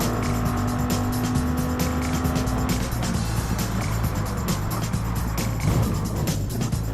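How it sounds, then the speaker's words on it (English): Engines roar and tires screech in a loud racing scene, with a constant drone and a sharp crunch of impact partway through. "he gets absolutely smashed by Erica Roth, and that puts him into the back of me"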